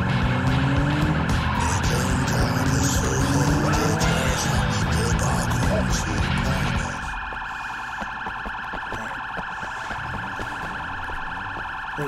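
In the video game Sleeping Dogs, a loud, continuous electronic alarm siren drones with a steady pulsing tone over busy background noise, which drops away partway through while the alarm keeps sounding.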